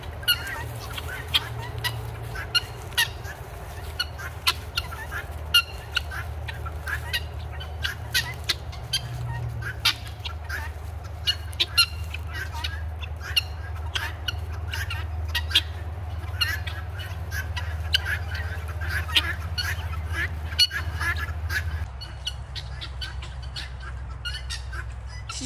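Guinea fowl call repeatedly as they follow a person outdoors, a steady stream of sharp, clipped squawks over a low rumbling background, moderately close and continuous.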